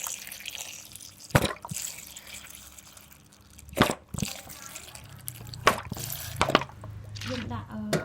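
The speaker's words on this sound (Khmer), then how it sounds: "ហើយចាក់ទឹកត្រី" Fish sauce poured into a bowl while mixing a Koh Kong-style dipping sauce, heard as a few sharp splashes and drips that stand out from a quiet, slightly noisy room.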